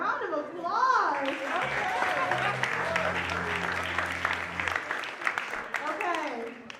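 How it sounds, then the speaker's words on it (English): An audience at a live show bursts into sustained applause, a dense wash of clapping and cheering that rises over the host's voice and holds for several seconds before tapering off. "round of applause"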